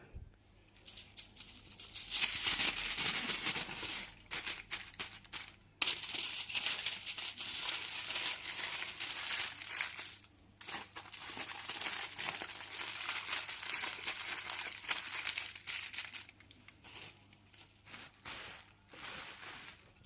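Homemade meatballs are wrapped in aluminium foil and plastic bags, giving a steady stream of close crinkling, rustling and crackling that runs for about twenty seconds with brief pauses.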